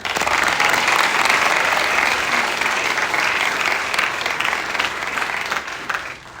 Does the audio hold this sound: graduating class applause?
yes